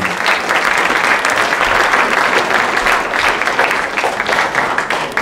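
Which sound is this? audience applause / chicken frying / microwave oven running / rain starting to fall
audience applause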